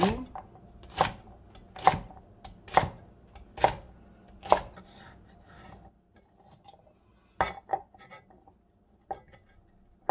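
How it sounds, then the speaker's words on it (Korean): A knife cuts celery into bite-size pieces on a cutting board, with six sharp, evenly spaced chops followed by a few quieter, scattered cuts after a pause, heard close up in a quiet room. "이렇게 다 이제 갈라주셨으면 먹기 좋은 크기로 잘라주세요"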